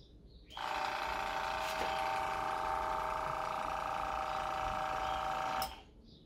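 A small Wimpel airbrush compressor switches on and runs with a steady, loud mechanical buzz and hum for about five seconds, then cuts off abruptly. No one speaks.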